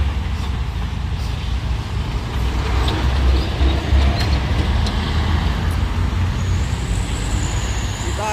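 A diesel truck engine rumbles low and steady amid busy hill-road traffic with buses and trucks, in continuous loud roadway noise, with faint hiss and brief air-brake sounds and occasional voices nearby.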